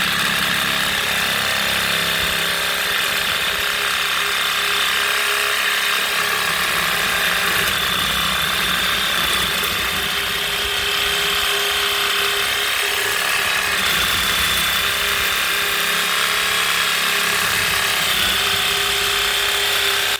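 Parkside 20V cordless sabre saw with a brushless motor running steadily, a continuous high buzzing whir held at even loudness for about twenty seconds, close and alone without voices.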